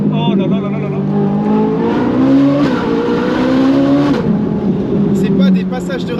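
A Ferrari 458 Italia's naturally aspirated rear V8 with IPE exhaust wails and climbs through the gears with sharp shifts in between, loud and close, while people talk over it.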